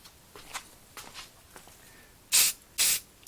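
Short hissing bursts of aerosol spray paint coating a 1/64 NASCAR custom die-cast model car fluorescent yellow, two strong close blasts near the end after faint earlier puffs and handling noise.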